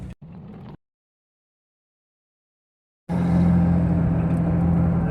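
A Jeep Wrangler driving at about 30 mph with death wobble in its front end: a brief burst of noise, a silent gap, then loud, steady road and engine rumble from inside the cabin.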